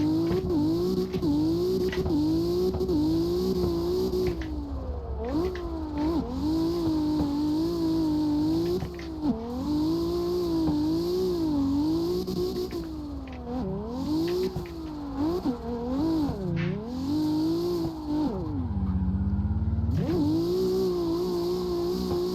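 A 900 horsepower drift car with a six-speed transmission accelerates hard and loud up through its gears, its engine rising in pitch and dropping with each shift, followed by a deep, rumbling pause.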